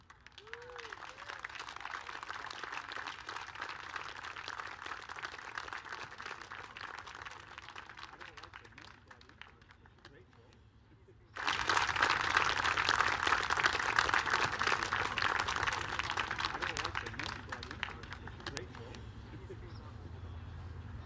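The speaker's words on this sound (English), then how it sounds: "One more round of applause." A round of applause rises from the crowd at the San Diego Bayfair, first moderate and steady, then swelling sharply louder about halfway through and holding as a dense, sustained clatter.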